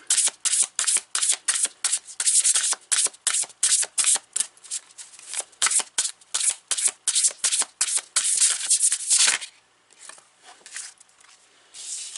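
Tarot cards are shuffled by hand in quick, repeated riffling bursts, close and crisp, with a rhythmic papery flutter that pauses briefly before a few softer shuffles at the end.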